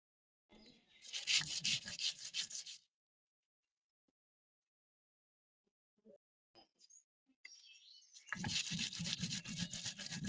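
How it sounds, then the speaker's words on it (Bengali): Chillies and spices ground by hand on a stone for egg curry, a rough scraping rub in two loud bursts, one near the start and one at the end, with a long quiet stretch of faint knocks between. "এখন আমি মশলাটা বেটে নেব"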